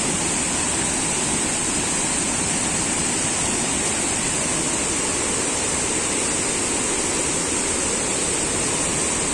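Stream water rushes steadily through the Konkan countryside, a loud, continuous broadband roar like a small waterfall, close by and with no talking.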